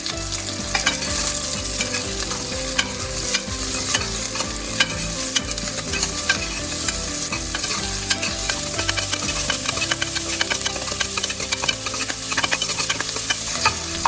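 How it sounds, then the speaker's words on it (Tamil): Chopped onions sautéing in hot oil with curry leaves, a steady loud sizzle with frequent stirring scrapes throughout, no talk, while cooking Tamil avarai paruppu sadham. "அதோட வெங்காயத்தை கட் பண்ணி வச்சுருக்க வெங்காயத்தை சேர்த்துக்கணும்."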